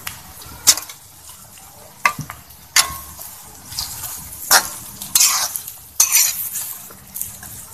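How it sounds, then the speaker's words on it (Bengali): Okra frying in a pan with chopped onion and shidol, fermented chepa shutki dried fish, for a vorta: steady close sizzle broken by sharp metal spatula scrapes and clanks against the pan every second or so. "এখন আমি এটাকে কিছুক্ষণ ভেজে নেব। এখন আমি দিয়ে দিচ্ছি শিদলগুলো।"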